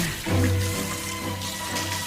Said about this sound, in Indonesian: Jangan siram lagi!